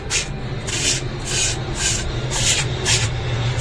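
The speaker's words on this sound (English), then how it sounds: "Get yourself a little bit of cardboard and just scrape it in the bowl so you can make a little pile up" Cardboard scraped repeatedly around the inside of a bowl, a steady run of about eight rough rubbing strokes in an even back-and-forth rhythm, close and fairly loud, with no talking.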